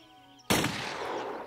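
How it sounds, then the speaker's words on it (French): A single sharp gunshot cracks out loud and close after a quiet stretch, followed by a long echoing tail in a period adventure drama. "Le coup de feu venait de là!"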